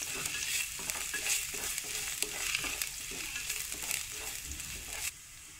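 Chopped garlic sizzles in a hot pan for a beef cake dish, with a constant crackling fry and the scrape of stirring repeating throughout before the sizzle drops off near the end, no voices.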